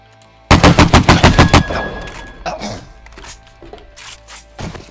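A rapid burst of automatic gunfire in the survival game 7 Days to Die during an online PvP raid: about ten loud, close, evenly spaced shots, then scattered fainter thuds and two more sharp reports.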